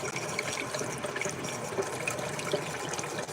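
Hot water runs from a tap in a steady, even hiss of flowing liquid, close and moderately quiet with no voices.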